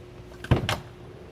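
A car trunk opened on a new four-door vehicle for sale: a single latch clunk followed by a brief softer thud of the lid, close and alone.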